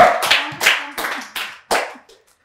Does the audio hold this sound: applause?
yes